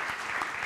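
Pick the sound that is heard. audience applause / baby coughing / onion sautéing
audience applause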